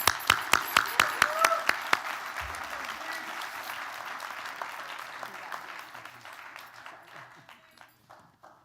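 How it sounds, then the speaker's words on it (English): Audience applause at an academic awards ceremony welcoming new doctoral students: a few loud, evenly spaced claps up front, then a broad wash of clapping that gradually thins and fades toward the end. "Please join me in applauding them."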